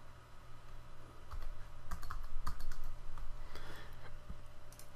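Keys clatter in quick irregular bursts as an agent ID is typed on a PC keyboard, the clicks close and fairly quiet over a low steady hum.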